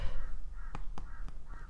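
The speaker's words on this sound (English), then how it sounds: "my crows are going off outside" Crows cawing outdoors, heard from inside over a steady background hum, with several harsh caws in a loose series plus a few sharp knocks, no talking.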